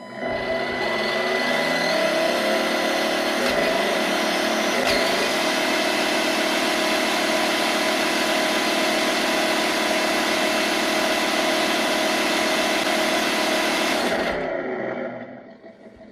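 A Tamiya MFC-02 RC Ford F350 4x4 truck's electric motor runs steadily in first gear, giving a continuous close whine that holds level for about fourteen seconds and then winds down, with no speech.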